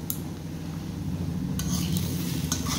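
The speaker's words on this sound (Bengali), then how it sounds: "তো আলু আর কাঁঠাল এটাকে আমি ভেজে নিচ্ছি একটু" Potato and jackfruit pieces frying in a pan while being stirred, a steady sizzle under scraping strokes that grow busier toward the end, close and continuous with no talk.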